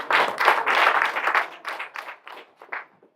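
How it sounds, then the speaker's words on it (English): Applause from an audience at a Caribbean community event bursts out loud and then thins into scattered, fading claps until it stops. "Another round of applause, please."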